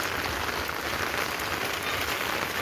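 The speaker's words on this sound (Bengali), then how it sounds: "আর এখন দেখো জোরে হচ্ছে বৃষ্টি" Heavy rain pours steadily, a dense, continuous hiss of drops drumming on surfaces with no pauses.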